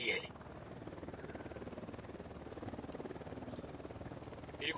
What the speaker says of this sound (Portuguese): Helicóptero da unidade, se abaixem.